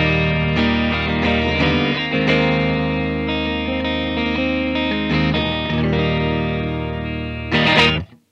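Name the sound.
Fender Japan Michiya Haruhata Stratocaster electric guitar played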